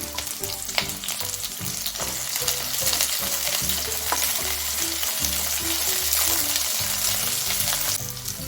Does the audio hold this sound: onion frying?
yes